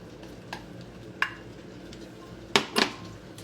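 Ground beef and pasta in a creamy sauce are stirred in a simmering pot, a spoon scraping the pan in a few separate strokes, with a quick double scrape near the end over a steady low hiss.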